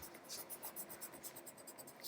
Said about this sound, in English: And then you erase.